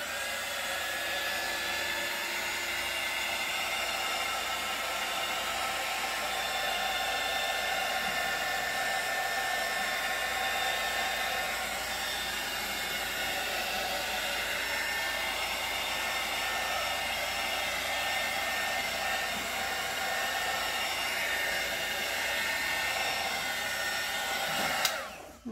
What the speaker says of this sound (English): I'm going to hit it with the heat gun.